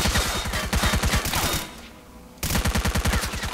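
Rapid automatic gunfire from a low-recoil weapon in STALKER: Call of Pripyat, loud and close, two sustained bursts split by a brief lull, with no voices.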